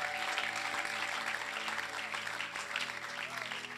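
A church congregation applauds for Jesus during a Thursday teaching service, steady loud clapping filling the room throughout with a few cheers mixed in.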